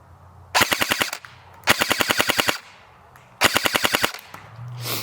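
A used airsoft gun fires three rapid bursts of roughly six rounds per second, each a sharp, evenly spaced rattle of close, loud shots separated by short pauses.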